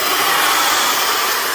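An AINA BLDC hair dryer blows at full speed with a loud, close, steady high-pitched rush of air and whine, unbroken throughout.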